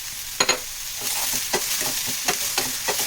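Green chillies, coriander and tomato sautéing in a pan for an egg gravy, with a steady close sizzle broken by several sharp scrapes and clacks of a spoon stirring the mixture.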